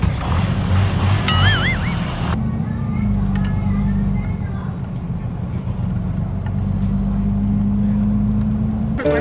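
A motor vehicle engine runs with a steady, loud low drone that holds throughout, with a short burst of other noise and voices near the start.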